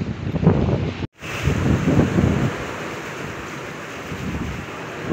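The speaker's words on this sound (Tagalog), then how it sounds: "Nakakatakot naman, sobrang hangin." Strong wind gusts roar across a garden of flowers, buffeting the microphone in loud rumbling waves with a brief dropout early on, then steadier blustery noise. No one speaks.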